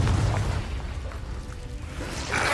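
A Confringo blast spell going off in Hogwarts Legacy: a loud, low boom at the very start that rolls into a dull rumbling tail, with a brighter crackling burst flaring up right at the end.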